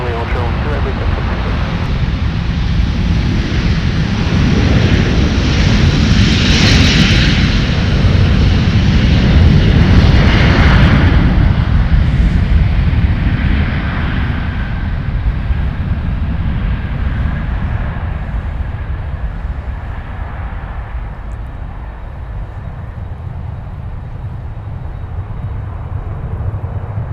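A Delta airliner roars on takeoff at MSP airport, its loud engine rumble swelling, then slowly fading into the distance, while voices talk over it.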